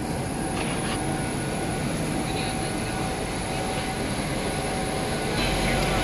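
A passenger airplane taxis after landing at Apatity in the Khibiny region, heard from inside the cabin as a steady, loud engine roar and broad rushing noise that continues throughout.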